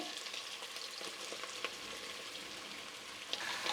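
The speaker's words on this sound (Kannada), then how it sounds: "ಎಣ್ಣೆಯಲ್ಲಿ ಚೆನ್ನಾಗಿ ಫ್ರೈ ಮಾಡ್ಕೋಬೇಕು" Sliced bitter gourd and onion fry in oil in a home kitchen pan, a soft continuous sizzle with occasional crackles and stirring scrapes, fairly quiet and close.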